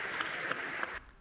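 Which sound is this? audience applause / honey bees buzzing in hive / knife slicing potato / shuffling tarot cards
audience applause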